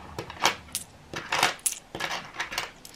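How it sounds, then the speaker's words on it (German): Loose coins clink and jingle as they go back into an envelope, several close metallic rattles in irregular bursts, with no talking over them. "Das Restgeld tue ich jetzt wieder in den Umschlag hier zurück für nächste Woche."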